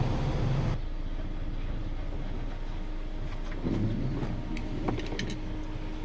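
An MG SAIC car with an overheating fault and a blinking coolant light, its engine idling steadily nearby after starting, with a few small clicks and no talking.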